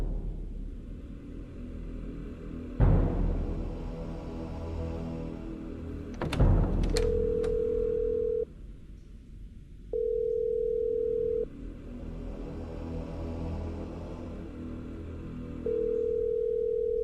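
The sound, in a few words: telephone ringing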